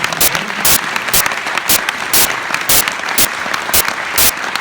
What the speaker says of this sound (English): let's round of applause for that